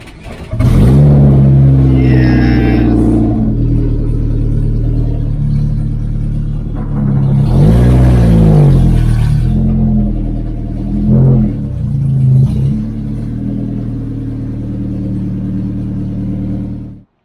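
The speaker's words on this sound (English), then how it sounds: "This car is so loud." A loud race car engine cranks, fires and settles into a rough, throbbing idle in a garage, with sharp revs blipping up twice, close and dominant for the whole stretch.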